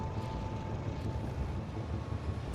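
A train in the Factorio Space Age game pulls away automatically from a station toward a refuelling stop, heard as a steady, low rumbling engine drone that holds level throughout with no talk over it.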